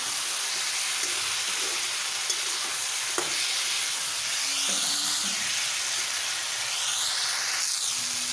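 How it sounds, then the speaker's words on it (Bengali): Continuous sizzling and hissing of katla fish curry with cumin frying in a pan, with occasional stirring scrapes and steady close-up crackle throughout. "আবারও কিছুক্ষণ একটু কষিয়ে নেব।"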